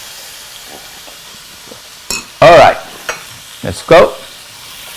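Seafood sears in a hot pan for a paella, giving a few sharp sizzling bursts over a quiet kitchen background, with a brief spoken remark.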